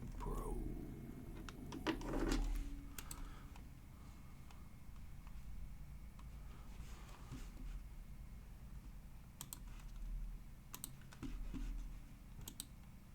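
Keys on a computer keyboard are tapped in a few short, scattered bursts of light clicking over a quiet room background, with long gaps between the bursts.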